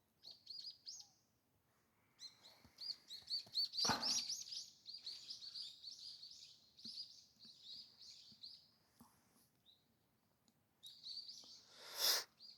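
Sparrows chirp busily in a steady chatter of short, high tweets, with a couple of louder close calls breaking through.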